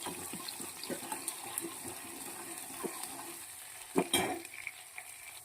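Chopped onions and curry leaves sizzling in a pan as they fry, with scraping stirs and a couple of sharper clatters, close and fairly quiet, no talking.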